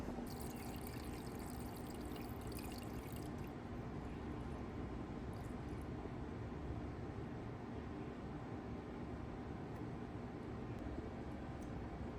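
Water poured steadily into the reservoir of a LetPot hydroponic growing system, a faint continuous splashing trickle that runs unbroken throughout with no voices.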